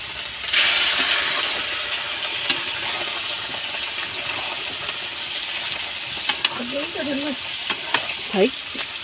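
Steady frying sizzle and hiss of mangoes for pickle in a wok, with a few brief clanks and tonal squeaks near the end.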